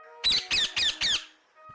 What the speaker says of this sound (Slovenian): in papagaja.